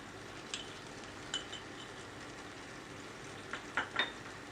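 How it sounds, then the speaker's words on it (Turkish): Spices stirred into a frying tomato sauce for shakshuka give a soft, low sizzle, with a few light scrapes and clinks of a utensil against the pan. "Baharatlarımızı karıştırıyoruz."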